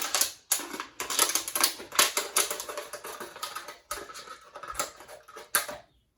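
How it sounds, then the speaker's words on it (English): Plastic bottle container being cut with rapid crackling, snipping clicks in quick uneven bursts, close and fairly clear, with brief pauses between runs. "Now I'm going to cut it about"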